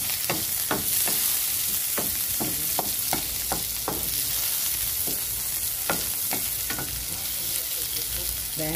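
Onion sizzles loudly and steadily in a hot pan as pork and pork liver with vegetables are cooked, with repeated clicks and scrapes of stirring spaced through the continuous frying hiss.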